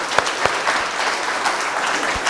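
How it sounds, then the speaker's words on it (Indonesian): A short burst of applause from a group, steady clapping with a few sharper claps standing out, fairly close. "Tepuk tangan."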